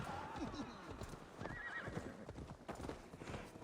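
A horse whinnies loudly over clopping hooves in Assassin's Creed Valhalla, with a brief second neigh and scattered game sound effects; no speech.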